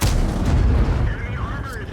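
A tank cannon fires in the World of Tanks video game, from an American T110E5 heavy tank, a loud low boom followed by a rumbling decay, with a voice speaking over it.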